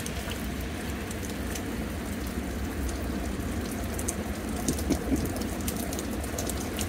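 Steady rain falling outdoors during a storm where wild raccoons are out, a dense, even patter with a few louder drops near the end and no voices.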